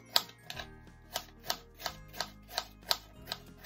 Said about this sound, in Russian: Яблоки мелко-мелко нарезаю.